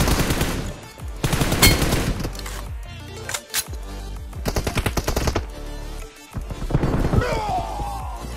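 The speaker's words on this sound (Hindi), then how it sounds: "फायर तो दो।" Rapid automatic gunfire bursts from PUBG Mobile/BGMI, loud repeated shots separated by short gaps and sharp impacts.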